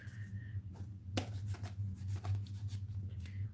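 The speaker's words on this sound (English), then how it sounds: "let me close the cards right now" Tarot cards gathered and shuffled by hand during a card reading, a run of soft papery riffles and taps over a low steady hum, fairly quiet and close.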